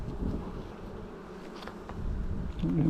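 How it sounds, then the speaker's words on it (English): Honey bees buzz steadily around a new hive, a dense insect hum that fills the scene close by and swells louder toward the end, with no talking. "We got some bees."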